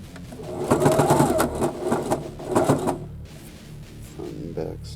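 A sewing machine stitches binding over braided elastic in two short runs with a brief pause between, close and fairly loud, then falls quiet amid light handling sounds.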